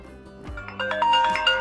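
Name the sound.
ringtone from clone iPhone 14 Pro Max speaker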